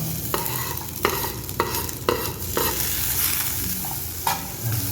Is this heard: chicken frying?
yes